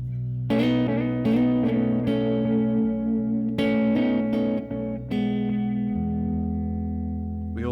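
Baritone guitar plays an intro and verse progression, strummed chords ringing with reverb and a steady rhythm, close and clear with no voices.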